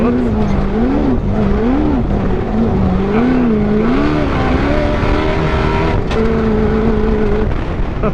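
A 1700 horsepower sandrail engine roars continuously at full throttle as it launches up a dune hill at Glamis, loud and close, with the pitch rising and falling through gear changes.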